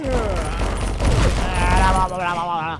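Gunfire in the Conker video game, a quick fusillade of shots packed into under three seconds, with a voice talking over it.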